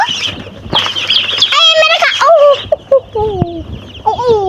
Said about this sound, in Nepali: चल्ला मेरो हातमा आउँदैछ